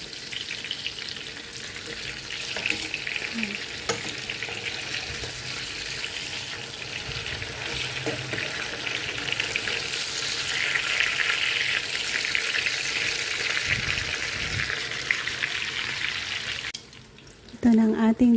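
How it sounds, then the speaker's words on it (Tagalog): Eggplant for tortang talong sizzles steadily in hot oil in a pan, a continuous close frying hiss with faint clinks, a brief pause near the end, and no talking. "Ito na ang ating tortang talong, a crispy fry eggplant natin."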